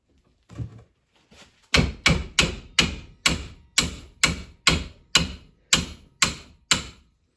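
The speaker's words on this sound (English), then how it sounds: "Maybe you have to hammer it with the hammer." A series of about twelve loud, evenly spaced hammer blows on a 1963 Triumph TR20 motorcycle fork tube, each ringing briefly, preceded by a couple of softer knocks.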